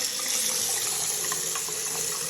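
Steady, full stream of water running from a kitchen faucet just after its low water pressure was fixed, a continuous broadband rush with no breaks and no talking.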